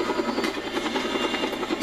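Helicopter in the video game Just Cause 2, a steady droning rotor and engine roar that holds at an even, fairly loud level throughout without any talk.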